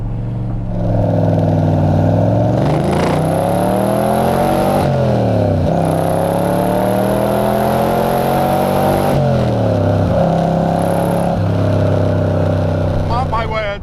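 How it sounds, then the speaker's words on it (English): A DeTomaso Pantera GT5 climbs a hill at full throttle, its engine roaring loud and close, rising in pitch through each gear, with sharp dips at the shifts and a brief lift near the end. "I'm going to do another run now, just up that hill, another sort of full throttle run as I head back"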